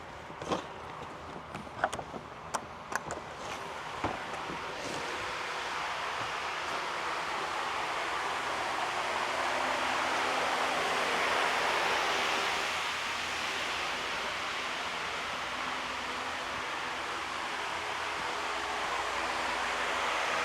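Steady broadband hiss of water spraying from a hose while watering a tomato garden, continuous and fairly close for the whole stretch, with a few brief taps and knocks near the start.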